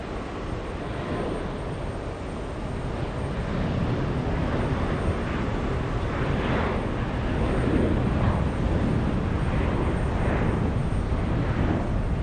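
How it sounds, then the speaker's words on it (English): Delta Airbus A330neo airliner on final approach, arriving from Lisbon: a steady, broad jet roar that swells slightly as the aircraft draws nearer, heard on its own without any voices. "Delta 273 flying in from Lisbon. An A330 Neo on final approach."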